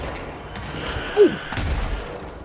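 A hiss enemy in the video game Control detonates in a single muffled boom with a sharp thump at its centre, rising briefly above low rumbling game ambience.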